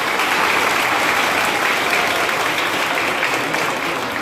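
An audience at a school annual function claps in a dense, steady burst. The applause is loud and close and fills the whole stretch without a break.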